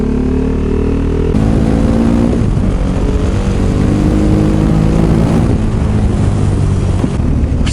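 Supermoto motorcycle engine while riding, a loud continuous droning engine with shifting pitch and wind rush, close up and alone.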